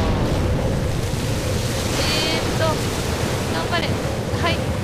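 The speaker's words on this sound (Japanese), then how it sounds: "このヘリのせいでなんかさ、あんな波がさ" Ocean waves churned up by a helicopter in the video game Zettai Zetsumei Toshi 2, a loud continuous roar of surf and wind, with faint tonal game sounds on top.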